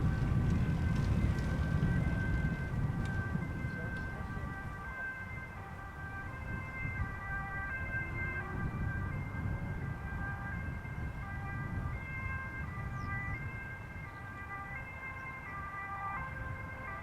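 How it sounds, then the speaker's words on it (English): An ambulance siren wails in a repeating two-tone pattern at a distance, over a low rumble of traffic, near Schiphol airport's Polderbaan runway. "I'm also hearing an ambulance."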